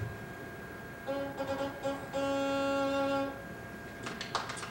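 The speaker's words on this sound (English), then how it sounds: "So here's the sound of that reed on the mouthpiece" A bassoon double reed fitted on its mouthpiece and blown, producing a few short reedy honks then a longer sustained buzzing tone, close and fairly faint, with a voice briefly at the end.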